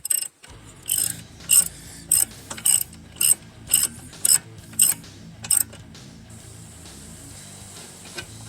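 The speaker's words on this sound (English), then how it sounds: "you'll have to use a breaker bar or a cheater bar on your ratchet to break them loose" A ratchet loosening tight front wheel hub bolts on a Toyota Prius gives about nine evenly spaced bursts of close, crisp clicking, then quiet workshop background.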